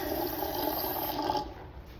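Water runs steadily from a bathroom bathtub tap, a continuous broadband rush that holds level and then eases slightly toward the end, heard close with no one talking.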